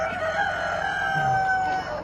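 Black Australorp chickens clucking and crowing close by, a steady bright call over a farmyard hum, with no talking.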